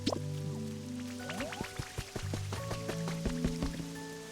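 Gentle rain falls in the Pokopia video game, with soft scattered droplet patters over calm, tonal background music, quiet and steady.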